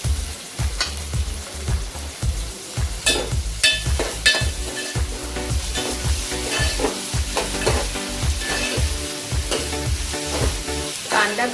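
Chopped onion with a pinch of asafoetida and salt fries in a pan for a prawn and fresh cashew curry, crackling and sizzling steadily while a spoon scrapes and stirs in repeated strokes, close and fairly loud.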